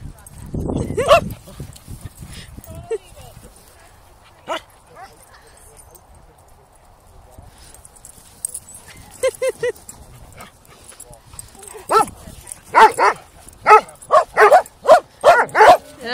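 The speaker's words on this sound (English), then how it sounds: "Sorry, pissing off the poodle." A poodle barks in loud, sharp bursts, clustered near the start and again in a rapid run toward the end, with softer whimpers and scattered knocks between. A person speaks briefly.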